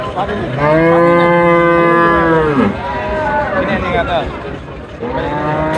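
Holstein Friesian cows and calves at a large North Bengal cattle market let out loud, drawn-out moos, one long call followed by shorter ones, over a low murmur of crowd noise.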